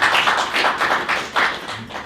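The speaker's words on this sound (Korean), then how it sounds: "박수 한번 주시죠" Clapping from the audience at a restaurant delivery business meetup: a short burst of several hands clapping in a quick, uneven rhythm, fairly close and clear, with no talk over it.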